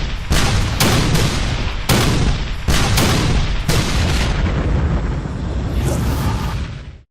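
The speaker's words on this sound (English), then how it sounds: "The largest artillery barrage ever in North America is about to begin." Cannons of a Civil War artillery barrage at Gettysburg boom in rapid succession, loud close blasts every second or so over a continuous rumbling roar, with no voices heard.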